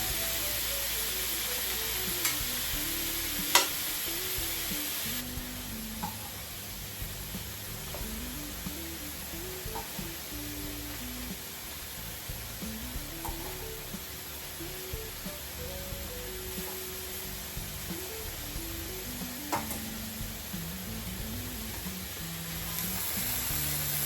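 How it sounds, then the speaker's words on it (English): Vegetables sizzling and frying together on a hot grill for ground pork tortillas, a steady close hiss with occasional stirring and scraping and a melodic tone running beneath. "So right now I'm gonna be adding all these vegetables so that they all grill together."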